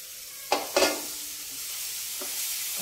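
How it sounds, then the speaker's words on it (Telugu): Green peas tipped into spices frying in a pan, two quick scraping clatters as they go in, then a soft steady sizzle with one more faint stir. "ఇప్పుడు మనం ఈ పచ్చి బఠానీ వేసేసుకుందాం"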